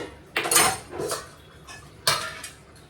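Dishes, pots and pans are washed by hand in a home kitchen, with a few separate, close clatters and scrapes of metal utensils over a short span and no talking.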